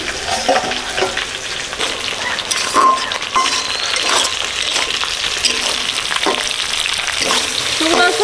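Saipon fish frying in a pan with a little spice and splashes of water, giving a steady crackling sizzle with occasional utensil clinks and stirring scrapes throughout.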